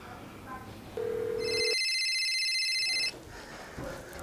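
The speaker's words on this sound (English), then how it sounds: "Phone him again." A telephone rings with a bright electronic trill after a brief tone, one sustained ring cut off, with talking faint before and after.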